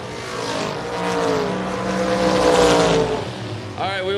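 Drag racing cars, a Corvette among them, launch and scream down the strip, a loud rising engine wail building then fading, with a commentator speaking over the noise.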